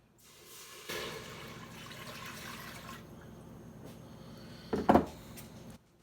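Water poured from a container into a cooking pot, a steady close-up liquid rush lasting several seconds, swelling briefly louder near the end before cutting off.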